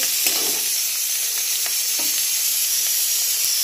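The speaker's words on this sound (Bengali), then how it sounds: "আলুটা আগে ভেজে নিচ্ছি" Potatoes fry in hot oil for a ridge-gourd and potato curry, giving a steady close sizzle with a few soft stirring scrapes and no voices.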